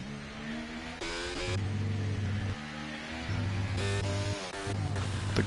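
Ferrari race cars in a sim racing league round at the Canada circuit: loud, continuous engine drone with rising and falling pitch through gear changes as the cars pass. No one talks.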